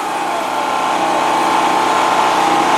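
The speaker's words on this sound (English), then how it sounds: "use the jaw saw to clean up this tree that fell on the cabin." A Worx JawSaw electric chainsaw cuts through a fallen tree beside a cabin, its motor holding a loud, steady whine with a constant pitch for nearly three seconds and no speech.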